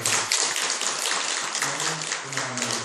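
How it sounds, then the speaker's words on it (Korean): Audience at a Korean Buddhist dharma talk applauding a person being honoured, a dense, steady wash of many hands clapping close and loud throughout, with no voices. "박수 한번 보내주십시오"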